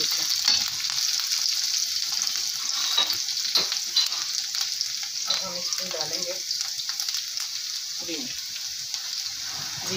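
Chopped chillies frying in a pan for whole kaali maash dal, a steady close sizzle with occasional stirring scrapes throughout.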